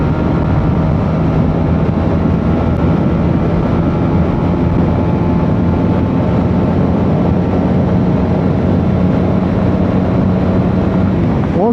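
A motorcycle being run in fourth gear at the rev limiter, a loud sustained engine roar that holds steady for several seconds, mixed with heavy wind rush against the microphone.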